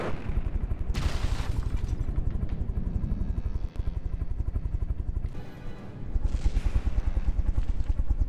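Rapid gunfire from the naval combat game From The Depths, dense bursts of shots with a steady rumbling drone, loud and continuous with brief lulls, no talking.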